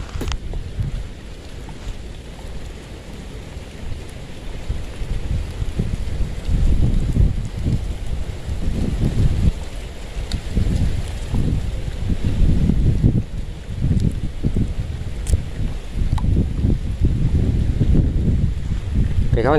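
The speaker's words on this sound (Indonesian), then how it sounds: "Sudah mau hujan, kenceng angin." Strong wind sweeps across the Karang Kates reservoir before rain, a steady rushing roar with gusty surges that grow louder over the second half, while people talk intermittently.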